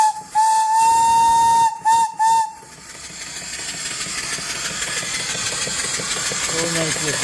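An antique steam boiler whistle blows loud and close in a steady tone, cut off briefly and sounded twice more in short bursts, then fades into the hiss and low chugging of the running engine.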